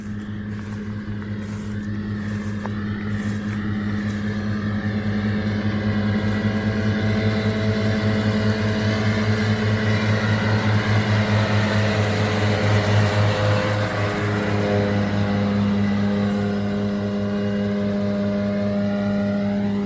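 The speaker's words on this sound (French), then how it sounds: "Et là on voit le tracteur arriver." A tractor pulling a mower approaches across an alfalfa field, its steady engine drone growing louder and holding strong as it passes close by.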